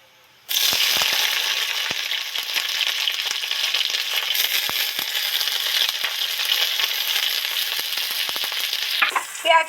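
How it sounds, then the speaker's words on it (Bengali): Chopped onion hits hot oil already holding fried dried red chilli and bay leaf, bursting into a sudden loud sizzle that continues steadily, with occasional clicks from stirring, close up. "তেজপাতা শুকনো লঙ্কা লাল লাল করে ভাজা হয়ে গেছে এবার এর মধ্যে পেঁয়াজ কুচিটা উঠিয়ে দেবো"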